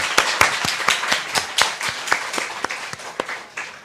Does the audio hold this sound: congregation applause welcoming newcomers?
yes